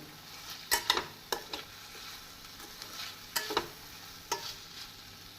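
Potato fry with masala powder is stirred in a sizzling pan, with a spoon scraping in short, irregular bursts over a quiet frying hiss.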